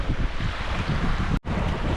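Steady wind blowing across an open beach on a chilly day, a broad continuous roar buffeting the microphone, with a brief dropout near the middle and no voices.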